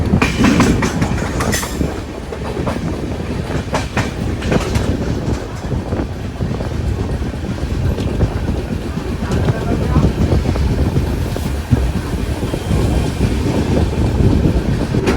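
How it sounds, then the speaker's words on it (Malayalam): A train rolls slowly over the Valapattanam river bridge, heard from aboard as a loud, steady rumble with rhythmic wheel clatter and wind buffeting. "നമ്മൾ വളപട്ടണം പുഴ ഇങ്ങനെ കടന്നുകൊണ്ടിരിക്കുകയാണ്. ഈ ഒരു ഭാഗത്തൂടെ വണ്ടി പയ്യെ പോകുന്നു."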